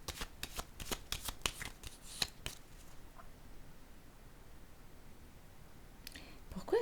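Tarot cards being laid down on a table in a reading: a quick run of crisp card snaps and taps in the first seconds, then a quiet pause, then a few more flicks, close and fairly soft.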